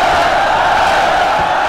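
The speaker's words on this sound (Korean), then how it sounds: "이사부의 웅변의 군사들은 함성을 질러 화답해." Massed soldiers roar a battle cry in answer to their commander before setting sail, a continuous, loud, sustained crowd shout filling the whole brief moment.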